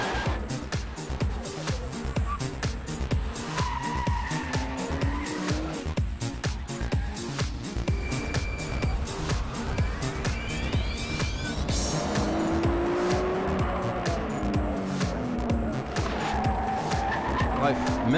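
A Nissan Skyline R34 Nismo with a titanium exhaust is driven hard on a twisting mountain road: a loud, continuous engine roar with rising and falling revs, and tires squealing repeatedly through the bends.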